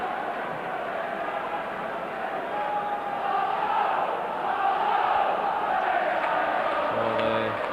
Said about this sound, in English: So the Rangers crowd trying to lift their team